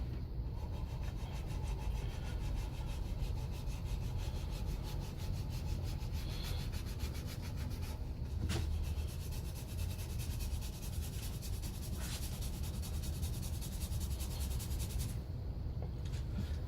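Steady, continuous rubbing of sandpaper over a painted, turned wooden piece being distressed for a patchy red sunset finish, close and even throughout with no pauses or talk.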